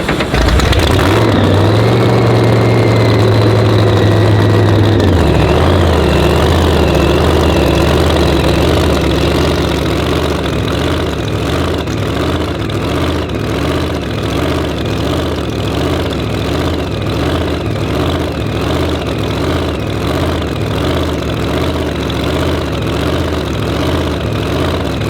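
A screw-blown Hemi car engine in a parking lot cranks and fires, briefly revving before settling into a loud, lumpy, steady idle that runs on unchanging.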